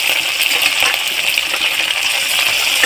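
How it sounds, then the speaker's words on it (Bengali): Small mourala fish fry in hot oil in a wok, making a loud, continuous crackling sizzle close up with no pauses. "দেখুন, এইভাবে মাছগুলো আমি ভালোভাবে ভেজে নেব।"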